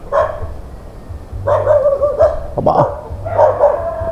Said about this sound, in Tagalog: kadami aso.